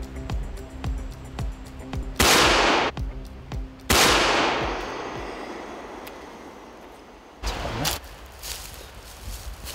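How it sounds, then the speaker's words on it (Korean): Two loud rifle shots at a wild boar ring out a couple of seconds apart, each with a long echoing tail, followed by a third sharper crack near the end over quiet outdoor ambience. "정확히 조준해서 쏜 회심의 한 발"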